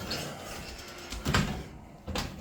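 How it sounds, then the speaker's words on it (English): An oven door being opened, giving a couple of soft mechanical clunks and a sliding scrape against a quiet kitchen background, fairly faint. "So let's open the oven and find out if I'm right."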